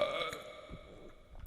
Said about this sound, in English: Another mid-sentence burp.